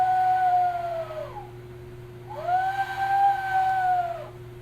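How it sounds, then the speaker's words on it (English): An owl whistle, a toy bird-call whistle, gives two long sliding hoots with a short gap between them, close and clear over a steady background hum. "Like that's a very well done owl whistle."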